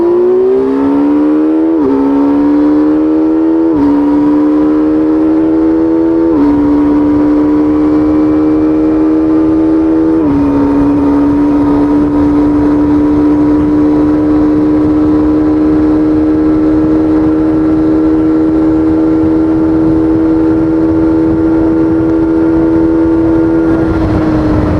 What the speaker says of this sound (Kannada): ಟಾಪ್ ಎಷ್ಟು ಆಗುತ್ತೆ ನೋಡೋಣ ಈ ಗಾಡಿ.